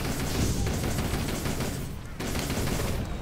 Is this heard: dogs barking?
no